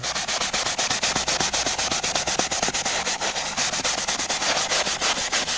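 A brush scrubs a leather seat back and forth in quick, even strokes, producing a dense, loud, rhythmic rasping that repeats several times per second without pause, close up and with no voices.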